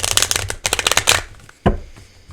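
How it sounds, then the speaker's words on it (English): A deck of tarot cards shuffled by hand at close range, giving rapid riffling bursts in two quick runs, then a single sharp tap of the deck. "Do one more shuffle."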